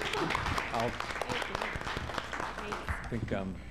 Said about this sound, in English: they ought to get a round of applause for doing a great job